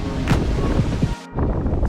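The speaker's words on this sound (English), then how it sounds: "It's cold and we are going fast and it's very, very windy." Strong wind roars and buffets the microphone on a fast-moving sailboat in cold weather, loud rumbling gusts cutting out for a moment before the blast returns.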